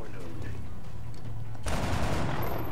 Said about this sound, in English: We then want to fire at this guy.